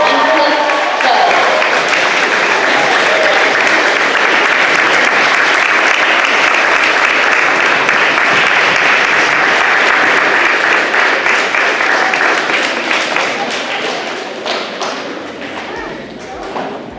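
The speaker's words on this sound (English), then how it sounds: "So, give a round of applause, please, for Don James, Danny Conley, and Cliff Bowe" An audience gives a sustained round of applause at a donation ceremony, dense clapping holding steady for most of the stretch before gradually thinning toward the end.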